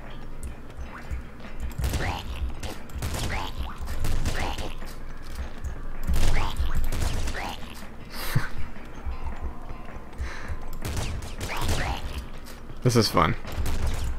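Pop rifle gunfire in Nuclear Throne comes as rapid, repeated bursts of small popping shots mixed with game effects, heard under someone talking excitedly throughout.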